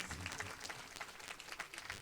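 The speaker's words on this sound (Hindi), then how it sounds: "ताली बजाएं जरा आप इनके लिए।" An audience at a religious gathering claps steadily, a short burst of moderately quiet applause heard alone.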